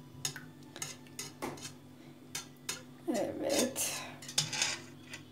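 Crepe batter whisked in a bowl, with a whisk or utensil clinking and tapping against the sides in irregular strikes, then a busier scraping stretch of stirring. Close and moderately loud, with a single brief spoken word.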